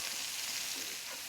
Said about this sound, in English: I will put the onion slices in the skillet, and we'll stir this and let it cook for a few minutes